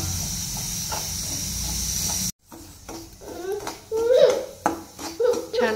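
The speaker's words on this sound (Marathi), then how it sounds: "शिऱ्यामध्ये टाकूया आपलं गावरान तूप" Homemade ghee hissing and sizzling in a pan as sheera is roasted, a steady broadband hiss that cuts off abruptly, followed by softer crackles and clinks of a spoon against the pan.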